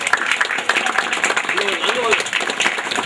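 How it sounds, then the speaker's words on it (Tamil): At a ceremony, the audience breaks into scattered applause, uneven claps rising and falling over a few seconds while voices talk underneath. "அனைவரும் அவருக்கு கரகோஷமணி கௌரவப்படுத்துமாறு கேட்டுக்கொள்கிறோம்."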